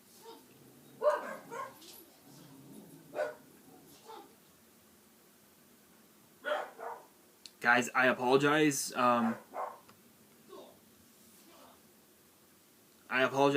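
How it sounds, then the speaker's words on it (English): Several dogs bark and yip indoors in a house, in short scattered bursts and a louder cluster, heard between and under a man's speech. "We've got 3 dogs in this house, and it's basically like a fucking zoo here, honestly."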